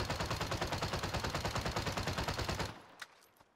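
Milano submachine gun from Call of Duty Warzone fired with the stopping power perk and no attachments: a loud, close, steady rapid-fire burst of shots lasting most of the clip, then a couple of faint trailing clicks.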